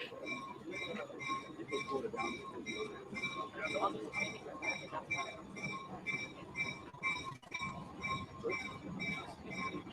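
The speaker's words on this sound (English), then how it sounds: "Gotta love a train going by a small little town." An old train rolls past a small town with a steady, rhythmic clatter of wheels and cars that carries on for the whole stretch, with faint squealing above a rumbling bed of noise.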